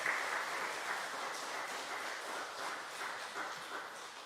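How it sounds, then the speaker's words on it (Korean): A room full of people at a church service applauding steadily, dense overlapping claps at moderate distance, sustained throughout with no voices. "우리 큰 박수로 환영해 주시도록 하겠습니다."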